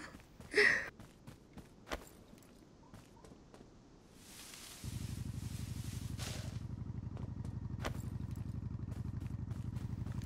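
A motorbike in the video game Undawn starts up partway through and settles into a steady, buzzing engine drone, after a few scattered footsteps and clatters in an otherwise quiet scene.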